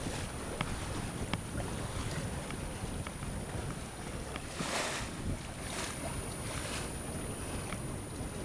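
Steady wind of 17 to 18 knots rushes across the microphone aboard a sailing boat off Sardinia, with water swishing and occasional splashes against the hull.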